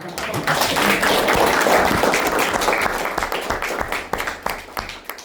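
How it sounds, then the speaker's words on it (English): An audience at a live class presentation claps together, a dense burst of applause that thins into scattered individual claps as it fades out. "Let's clap it up."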